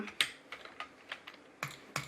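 Someone plays a computer game, tapping keys and clicking a mouse in sparse, uneven bursts. The clicks are crisp, close and fairly quiet, with short gaps of near silence between them.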